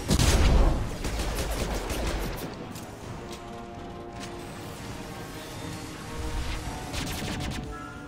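Rapid bursts of gunfire in the video game Mass Effect 2, a loud dense volley at the start easing into sustained crackling shots, with further bursts near the end.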